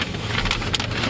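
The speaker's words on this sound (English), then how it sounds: "it's been raining" Rain falling outside near a parked car, a steady close hiss of drops with no voices.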